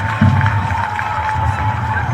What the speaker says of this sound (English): give a strong and loud applause to His Excellency the President